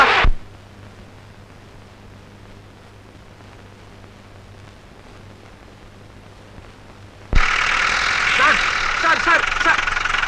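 A car that would not start, pushed until its engine fires: near quiet for several seconds, then an abrupt, loud catch into a rough, steady idle that carries on to the end.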